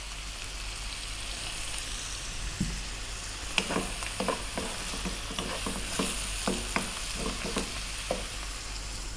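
Garlic ginger paste and curry powder fry in a pan, a soft continuous sizzle with a burst of clicks, scrapes and stirring taps through the middle and latter part.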